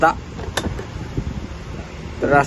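A Yamaha NVX ABS V3 scooter with a 15-horsepower engine starts, giving a short whirring burst and then a low, close idle. Another burst comes near the end, and talk sounds nearby.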